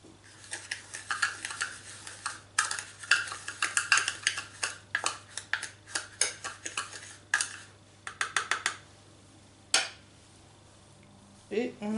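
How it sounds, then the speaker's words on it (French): Spoon or whisk stirring agar-agar into sugar in a metal saucepan, a run of quick irregular scraping and clinking strokes, close and fairly loud, with brief pauses and no talk. "On va mélanger donc l'agar-agar dans le sucre."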